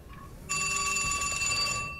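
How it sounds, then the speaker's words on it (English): A telephone bell rings loudly and steadily from about half a second in, a bright repeating electronic trill that continues without any talk over it. "My phone. It'll just have to keep ringing."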